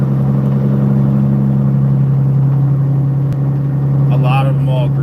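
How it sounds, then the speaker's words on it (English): Loud, steady low drone of a truck engine cruising on the road, a constant deep hum with rumbling texture throughout, with a voice speaking briefly near the end. "the sound your truck's making is great, like white noise to go to sleep to"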